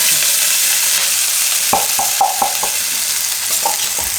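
Ginger, green chili and garlic hit hot oil for a matar paneer paratha filling, giving a loud, dense sizzle. Several sharp stirring knocks from a spoon sound in the pan partway through.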